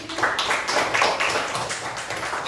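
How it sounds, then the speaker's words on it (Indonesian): A classroom of students claps for their group, a brief burst of scattered, fairly faint hand claps lasting a couple of seconds. "Tepuk tangan untuk kalian."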